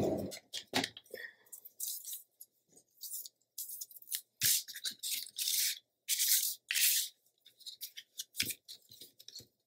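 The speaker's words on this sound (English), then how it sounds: "I'm going to go ahead and fold these in, burnish them" Folded paper cardstock for a scrapbook page being burnished, heard as close, bursty rubbing and scraping strokes with short pauses between them, crisp and dry with no talking.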